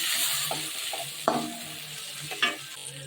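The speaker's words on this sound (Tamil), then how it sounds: "தேங்காய் கருவேப்பிலாம் போட்டு அப்படியே ஏற்ற வதக்கி வச்சுக்கலாம்" Coconut and curry leaves sautéing for urad dal chutney, with a constant sizzle and a few distinct scrapes and taps of a spoon in the pan.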